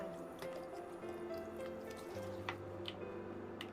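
Fish sauce trickles into a pot of sour fish soup with grilled mackerel, a faint dribbling, dripping liquid sound over a low steady background hum, with no talk.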